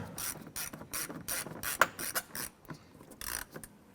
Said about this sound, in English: Once these screws bottom out, just give it about another quarter turn.